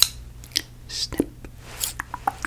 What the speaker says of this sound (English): Snip.